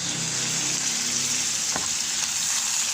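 Ground beef, garlic and red onion fry in butter in a pan as a base for pumpkin soup, giving a steady, close sizzle throughout with one brief stirring scrape near the middle.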